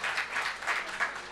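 A short, steady burst of audience applause at a gathering, dense clapping that swells slightly in waves for just over a second with no voices on top.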